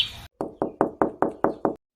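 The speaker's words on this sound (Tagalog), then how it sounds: "Katok ka ng katok." A door is knocked on seven times in a steady, even rhythm, loud and close, following a brief burst of hiss, in an animated Filipino cartoon scene.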